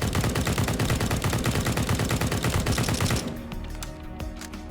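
Rapid automatic gunfire from weapons in Counter-Strike, a fast loud rhythmic volley of shots that stops after about three seconds, leaving fading echoes and a few scattered clicks.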